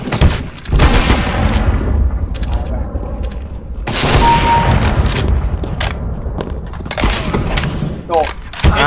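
Rapid gunfire from Counter-Strike: Global Offensive, loud bursts and repeated shots through most of the stretch, with players talking over the action.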